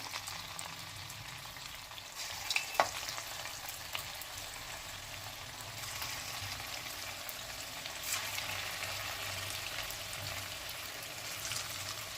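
Pieces drop one by one into hot oil in a wok and fry with a steady, even sizzle that holds throughout, a couple of brief clatters standing out early on.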